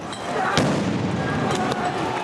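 Fireworks pop and crack over a noisy street protest crowd in Belgium during a general strike, with a few sharp bangs standing out against constant crowd din.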